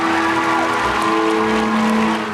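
A hall audience applauds the crowning of Miss World, a steady wash of clapping filling the whole stretch with sustained musical tones underneath.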